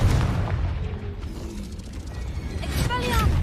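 A Confringo blast curse cast in Hogwarts Legacy bursts through dense, continuous combat noise, with rumbling, mechanical impacts and booming hits layered over steady game sound throughout.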